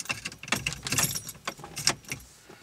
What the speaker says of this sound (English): Now I'm going to go ahead and install the key.